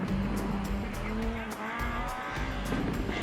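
A BMW E36 race car sliding sideways around a rally circuit, its engine revving and shifting in pitch with tire squeal and skidding noise, heard from a moderate distance under a commentator's voice.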